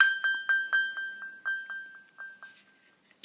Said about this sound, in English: So that sound is actually coming from my iPhone.